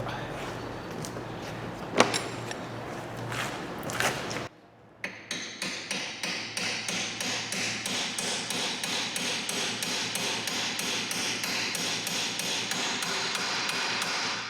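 A hammer taps a new ball joint into the lower suspension of a Peugeot 407, one louder knock early on, then a steady rapid series of even metallic taps continuing to the end, close and clear with no talking.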